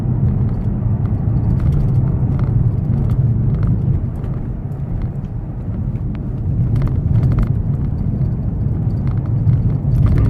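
Interior drone of a Mercedes E250 CDI diesel on the road with a no-power fault, a loud steady low rumble that dips and swells as it shifts gears, with faint clicks and rattles.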